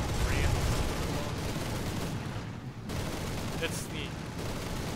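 Tank gunfire and battle noise from the War Thunder ground forces game, a dense continuous rumble of shots and explosions with a few brief sharp reports, while someone talks over it.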